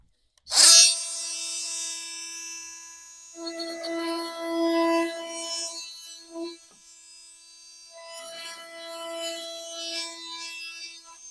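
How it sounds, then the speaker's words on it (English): An oscillating multi-tool cuts an opening in drywall for an old-work electrical box, a buzzing tonal whine in intermittent passes with pauses and a sharp start. "then what I'd use is a multi-tool to cut it out"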